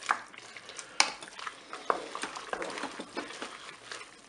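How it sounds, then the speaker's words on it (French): Spaghetti, carrots and chicken are stirred in a Cookeo electric pressure cooker, with faint, soft scraping and light clinks of a utensil against the pot, close and quiet. "Je mélange."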